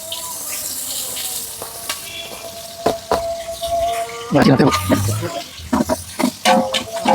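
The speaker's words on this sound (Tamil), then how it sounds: "உப்பு போட்டு கொஞ்சம் லேசாக வதக்கி எடுத்துக்கலாம்" Onions for beef biryani, salted and sautéing in a large batch of oil, give a soft sizzle with scattered clicks and clatters of stirring that grow louder and busier toward the end.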